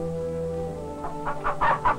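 A chicken clucks several times in a quick rising series near the end, over a low steady background hum.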